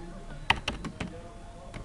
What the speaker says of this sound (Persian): خب این را هم اینجا ما تایپ میکنیم.